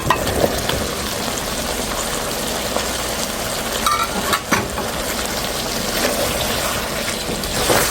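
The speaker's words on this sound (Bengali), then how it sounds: "ঝিঙ্গাটা দিয়ে একটু হালকা অল্প একটু কষিয়ে" Steady loud frying sizzle of ridge gourd sautéing in a pan, with a spatula scraping and stirring through it now and then.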